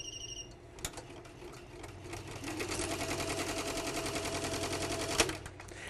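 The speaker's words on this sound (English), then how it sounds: "So now I'm going to start my design. And it will start sewing." An E Series embroidery machine stitches a design, its needle running in a steady rapid mechanical rhythm that holds at a constant level with a few sharper clicks and thumps.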